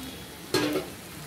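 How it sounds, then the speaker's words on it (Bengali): An egg drops into a hot pan between pushed-aside fried snake gourd with coconut, giving a sudden sharp sizzle burst that fades after a moment into a low background hiss. "দুই সাইড দিয়ে ভাজিটা আমি সরিয়ে নিয়েছি, মাঝখানে ডিমটা দিয়ে দেব।"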